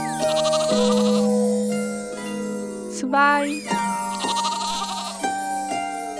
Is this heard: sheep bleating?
yes